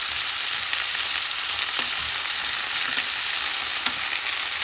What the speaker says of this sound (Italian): appunto già si friggono